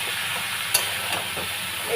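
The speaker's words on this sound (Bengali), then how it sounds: "এইবারে আমি এই কাটোয়ার ডাঁটা, কুমড়ো আর কাঁঠাল দানা একসঙ্গে দিয়ে দিই।" Cut stems, pumpkin pieces and jackfruit seeds go into a hot pan of ready spice paste for a Bengali ghonto, and a steady steamy hiss and sizzle runs throughout with a brief sharp crackle near the start.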